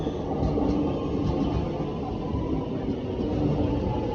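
Melbourne metro train arriving at a station, a steady low rumbling roar of rolling cars close by, continuous and loud with no talking.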